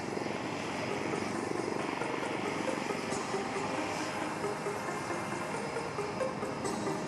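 Sarang helicopter display team aircraft fly the crossover brick manoeuvre at the Aero India 2021 air show, a continuous broad rotor and engine roar heard from a distance, steady throughout.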